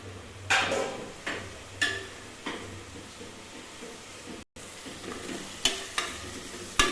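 Mint leaves, with curry leaves and coriander, sautéing in a pot for pumpkin biryani: a soft, quiet sizzle broken by repeated sharp spoon scrapes and clinks against the pot at irregular intervals.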